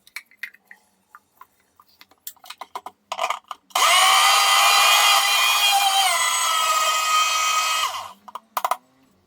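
An electric mixer grinds dried drumstick leaves into powder, a loud, steady close whirring roar of about four seconds, with scattered clicks and handling knocks before and after.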